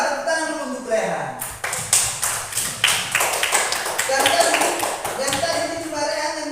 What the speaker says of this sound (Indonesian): Tepuk tangan dulu untuk Rehan.